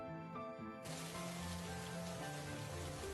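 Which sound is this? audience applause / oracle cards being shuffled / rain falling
rain falling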